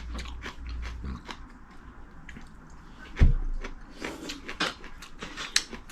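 Radish-greens kimchi being bitten and chewed at a dumpling restaurant, with close, wet crunches and squishy chewing and one sharp bite near the middle.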